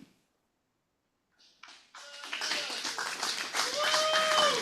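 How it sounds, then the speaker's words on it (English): Applause from a Rotary Club meeting audience, starting with a few scattered claps, then swelling into dense, sustained clapping that holds steady to the end. "thanks for that unsolicited applause"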